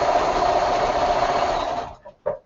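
A sewing machine quilting at high speed, running steadily and loud for about two seconds, then stopping, followed by a couple of brief mechanical clunks.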